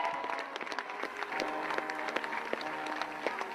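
A large crowd applauds outside a church at a funeral, dense outdoor clapping from many people at a moderate distance, steady for a few seconds with no voices.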